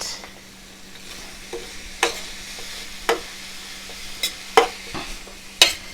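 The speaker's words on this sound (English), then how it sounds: "I want our broccoli to cook down some." Broccoli cooking down in a pan alongside trout fillets, a soft steady sizzle with sharp spatula clicks and scrapes about once a second.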